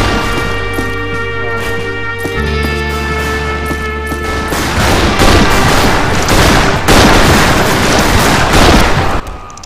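Dual Mare's Leg lever-action guns fire rapidly in the multiplayer shooter Fistful of Frags, loud close shots piling into a dense barrage with crashing impacts, building over a steady background bed.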